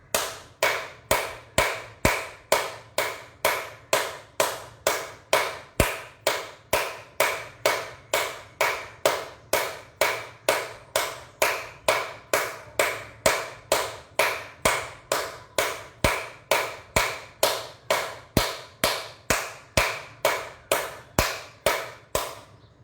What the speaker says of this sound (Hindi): दोनों हाथ ताली बजानी है लेकिन एक पंजा दूसरे पंजे से पूरा टकराएगा